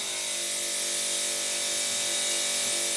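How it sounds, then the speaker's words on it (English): A continuous fine hiss of cool facial mist spraying close by holds steady for a few seconds, with a faint steady mechanical hum beneath it. "spray it on my face"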